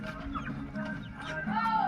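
Chickens cluck in short bursts at a village home in Assam, close and moderately loud over a steady background of household noise and faint voices.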